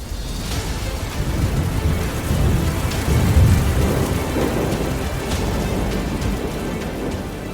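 Thunderstorm with torrential rain: a steady dense roar of heavy rain with deep rolling thunder building and swelling midway, loud and continuous.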